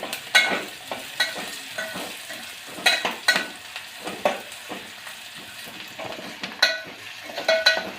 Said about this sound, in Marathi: कांदा आपल्याला लाल होईपर्यंत परतून घ्यायचा आहे.